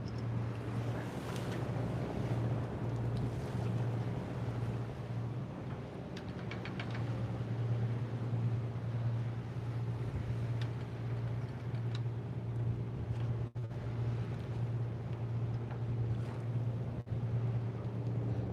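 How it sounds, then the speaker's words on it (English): Strong wind blasting across a small fishing boat at anchor jigging for cod off Alaska, a constant roaring rush with a low steady engine hum underneath and occasional knocks. "This wind is just blasting here today."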